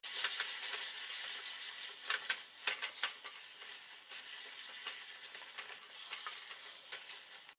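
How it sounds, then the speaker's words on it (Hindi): Onion, tomato and spice masala for egg curry frying on medium heat, a steady close sizzle running throughout with scattered stirring clicks and scrapes of a spoon in the pan. "अब इन मसालों को हम अच्छे से टमाटर प्याज के साथ मिक्स करके मीडियम आंच पे भून के तैयार करेंगे।"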